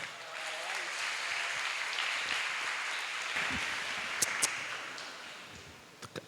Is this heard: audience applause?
yes